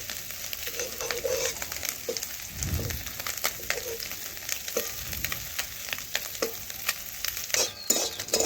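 Fish frying in a wok, continuous close sizzling broken by a few dull thuds and crackles as pieces are turned over one by one, with no talk.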